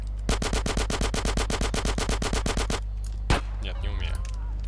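Rapid automatic gunfire in GTA's Los Santos, a fast even burst of about twenty shots lasting over two seconds, then a single louder shot, with a steady game music bed and brief voice sounds underneath.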